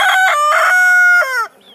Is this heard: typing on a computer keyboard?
no